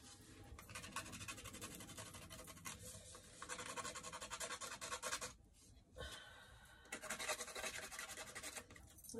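Dry rasping and scratching of a Copper Beech watercolour pencil being shaved, a steady close scraping texture with brief pauses, quiet and alone without talk.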